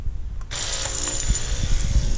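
A newly installed water pump in a Saeco Intelia espresso machine starts up during a diagnostics test, a sudden steady electric whine and buzz with a rattling hum underneath, close and continuous after a brief moment of quiet.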